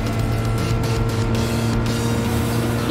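A steady, droning engine hum with sustained tonal harmonics, constant and fairly loud, from a Toyota GR86 sports car in the racing game Gran Turismo Sport.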